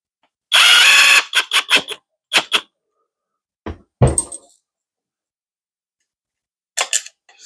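A power tool drives screws into an Axial Coyote RC car hub in short, close bursts: one longer whir followed by several quick pulses, then scattered clicks and knocks with long silent gaps.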